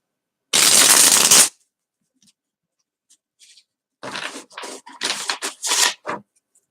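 Playing cards shuffled by hand: a loud continuous riffle burst, a quiet pause with small taps, then a series of quick choppy riffles and bridges, close and dry.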